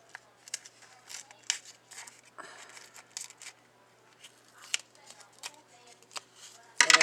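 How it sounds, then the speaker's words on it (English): Scissors snip through a piece of metal tape for a handmade metal corner, giving a series of short crisp cuts and crinkles at close range, with a sharper burst near the end. "now I'm just going to cut off a piece of tape which looks about close to me"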